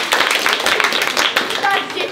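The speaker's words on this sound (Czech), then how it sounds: "tak si zatleskujeme" Children and adults clapping together outdoors in a Prague park at an autumn children's event, a dense burst of many hands lasting a couple of seconds, with a few voices mixed in.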